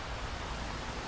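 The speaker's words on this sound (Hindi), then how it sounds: "बारिश बहुत तेज थी।" Heavy cartoon rain pours as a steady, even wash of hissing noise, fairly quiet and unbroken, with no voices.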